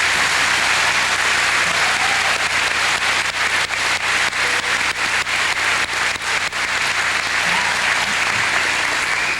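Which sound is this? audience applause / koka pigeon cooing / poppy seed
audience applause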